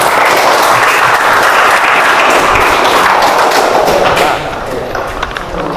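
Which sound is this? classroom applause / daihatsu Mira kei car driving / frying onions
classroom applause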